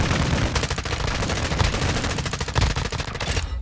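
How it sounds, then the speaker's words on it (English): Loud, rapid gunfire from a video game on Ashika, with dense bursts of automatic shots rattling continuously for the whole stretch, close and harsh. "I don't know what fucking gun he's got, but that's loud"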